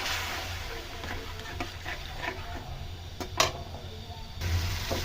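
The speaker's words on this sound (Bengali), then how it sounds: "এবার মশলা থেকে ভালো করে তেল বেরোয়া অবধি মশলাটা কষিয়ে নেব।" Quiet sizzle of masala stir-fried in oil for a Bengali mushroom curry, with soft intermittent scraping and a couple of sharp clinks from the pan, close up with low background hum.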